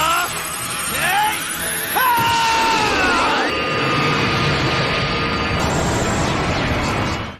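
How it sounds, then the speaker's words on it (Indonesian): Mira's self-destruct blast in Dragon Ball Xenoverse 2: swooping energy whines build into a loud, sustained roaring explosion with crackling bursts, running several seconds before cutting off. "Sebelum lenyap, Mira memilih meledakkan dirinya"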